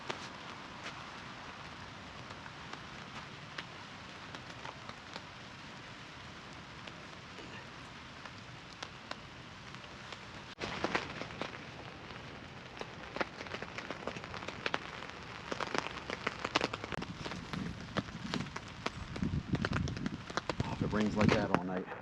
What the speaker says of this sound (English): If it rains like that all night, I'm gonna sleep real good.